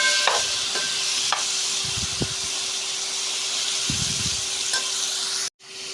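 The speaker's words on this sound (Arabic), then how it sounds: "تبديل البصل" Sliced onions sauté in a hot pan for shawarma sandwiches with a steady, loud sizzle. Occasional soft scrapes and knocks of stirring sound before the frying noise briefly cuts out near the end.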